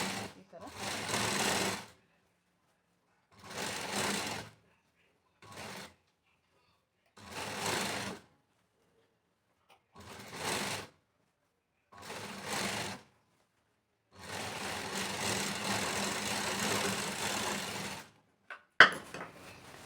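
A sewing machine stitches a lining blouse and its sleeves with double rows of stitching, running in short separate bursts, then one longer continuous run, close and clear with no talk over it.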